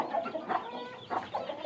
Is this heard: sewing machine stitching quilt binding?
no